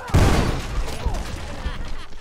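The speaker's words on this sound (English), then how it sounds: "I actually fired that shot off because of the explosion." Gunfire in the medieval combat game Mordhau during a battle, a sharp loud shot followed by booming rumble and scattered battlefield noise, with voices talking over it.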